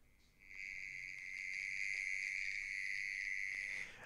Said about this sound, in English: The correct answer is mole cricket.